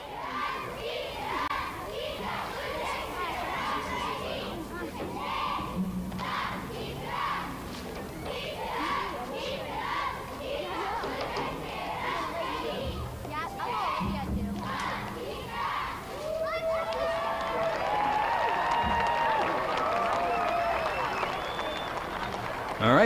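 Cheerleaders perform a cheer at a high school football game, rhythmic group chanting in repeated bursts over a noisy crowd, followed by louder cheering and whistling toward the end.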